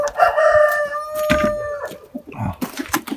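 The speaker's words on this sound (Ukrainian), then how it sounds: "ось цих півнів і цю курочку, яку там закрита, що хромає" Amrox roosters crow loudly and close by in a poultry pen, one long crow followed by another, with hens clucking in short bursts underneath.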